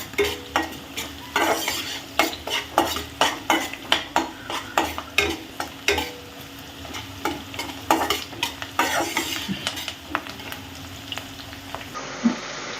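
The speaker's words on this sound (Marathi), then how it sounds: "कांदा छान गोल्डन रंगावर येईपर्यंत कांदा परतवून घ्यायचा आहे आपल्याला" Chopped onion fried in a pan until golden for a sprouted moth bean pulao, a spoon stirring in repeated rhythmic scrapes over a steady close sizzle of hot oil.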